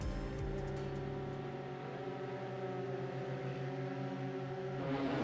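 Volkswagen race cars sit on the starting grid with engines running, a steady loud multi-engine drone and rumble holding throughout with a slight rise at the end, no talk.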